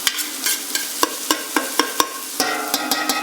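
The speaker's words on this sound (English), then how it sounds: "The ginger and garlic and the onions have been frying for a few minutes" Ginger, garlic and onions fry in a pan for chicken mulligatawny soup, a constant close sizzle broken by a series of sharp, regular scrapes and knocks of a spoon stirring.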